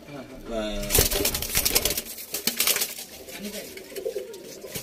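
Fulshira pigeons coo in a loft, soft throaty coos repeating through the stretch while someone talks nearby over them.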